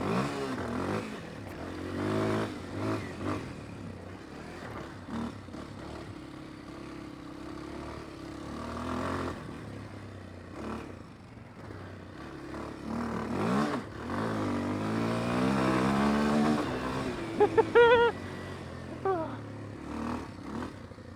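A 2025 Kawasaki KLX230R dirt bike is ridden over bumpy terrain, its single-cylinder engine rising and falling as the throttle opens and eases, with clattering and rattling over rough ground and a brief burst of clicks, close to the rider.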